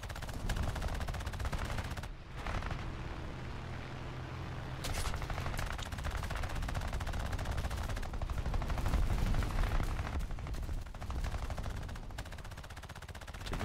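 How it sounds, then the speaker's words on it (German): Aircraft machine guns firing in War Thunder, flying a Ki-43 against a bomber, with dense steady bursts of gunfire running under engine drone for the whole stretch. "Maschinengewehre machen so null."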